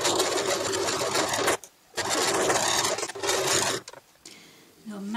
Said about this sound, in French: Maintenant, on descend les pieds et on continue à coudre.